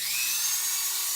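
Rotary tool with a burr carving wood on a copper-accented woodspirit totem, a steady high-pitched whirring grind held close and loud for a brief moment.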